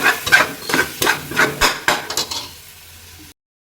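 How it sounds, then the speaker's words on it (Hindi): Spices with a spoonful of water frying in a karahi, a rhythmic series of sharp spatula scrapes and clinks over soft sizzling, close and loud, fading to near silence at the end. "1 टेबल स्पून पानी डालेंगे और अच्छे से इन मसालों को भून लेंगे।"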